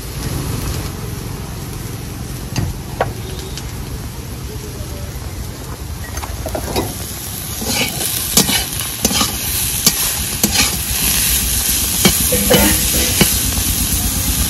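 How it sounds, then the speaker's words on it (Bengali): Pointed gourd with salt and turmeric frying in a pan gives a steady low sizzle with scattered stirring scrapes and clicks, busier toward the end. "লবণ হলুদ দিয়ে আবারও 2 মিনিট মতো ভেজে নিলাম"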